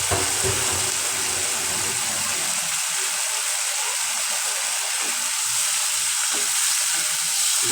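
Three boiled potatoes fry with spices in hot oil in a pan, giving a steady, close sizzle and hiss throughout, louder at the start with occasional stirring scrapes.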